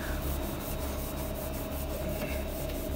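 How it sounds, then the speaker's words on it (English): A Data East Tales from the Crypt pinball playfield is scrubbed by hand, producing a close, continuous rhythmic rubbing and rasping with quick back-and-forth strokes and no voices. "Bit of a scrub."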